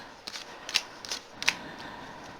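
A deck of tarot cards is shuffled close by, giving soft papery riffles and several sharp flicks in an irregular run over quiet room background, with no talk.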